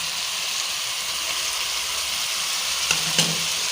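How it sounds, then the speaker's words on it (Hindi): Chicken biryani masala sautéing in a pot, a steady, even sizzle held for several seconds, with a couple of faint utensil knocks near the end. "दो से 3 मिनट हो चुके हैं हमें भूनते हुए।"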